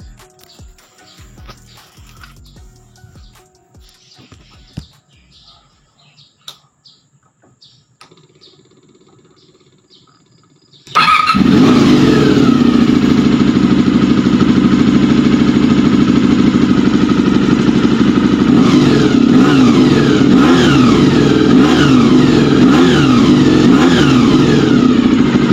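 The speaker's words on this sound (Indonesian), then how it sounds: "Nah jadi pasti kalian penasaran untuk suara knalpotnya. Mari kita" A 1990s Honda VFR400 NC30 V4 motorcycle sits quietly before its engine starts abruptly and runs loud and close, with repeated throttle revs over a rough, steady idle.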